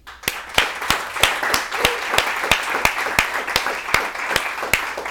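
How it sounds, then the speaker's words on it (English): Applause for a startup founder at a Startup Grind event, with a fairly small room clapping steadily. A few close, sharp claps keep a regular beat over a softer mass of hands. "give a big round of applause to Raj"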